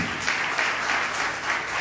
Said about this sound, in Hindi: ताली बजाकर प्रभु को धन्यवाद।